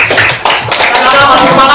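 Children clap hands together in a sixth-grade religious studies classroom, a loud, dense burst of rapid overlapping claps, close and lively, mixed with voices.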